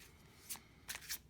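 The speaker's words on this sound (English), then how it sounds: "Let me just shuffle a little bit more" Tarot and oracle cards being shuffled by hand, three quick soft riffling bursts close by in a quiet room, with no talking.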